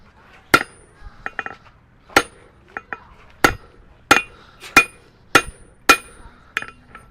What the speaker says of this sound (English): You'll see by hitting it over the edge of the anvil.